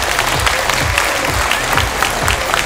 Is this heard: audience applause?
yes